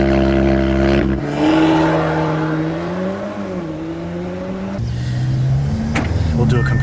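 An Audi S3 engine during a launch control start, a loud close roar that builds, dips and rises again as the car pulls away, with brief noises near the end.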